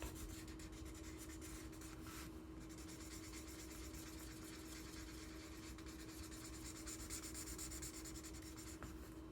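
Someone colouring on paper during a kindergarten art lesson: faint, steady scratchy rubbing over a low constant hum, with no talk.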